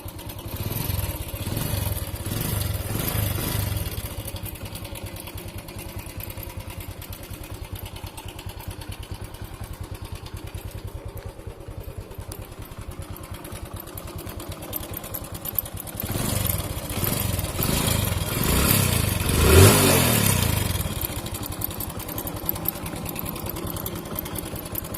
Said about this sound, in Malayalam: ആദ്യം തന്നെ ഈ വണ്ടിയുടെ സൗണ്ട് നിങ്ങളൊന്ന് കേട്ടൊന്ന് മനസ്സിലാക്കി വെച്ചേക്കുക.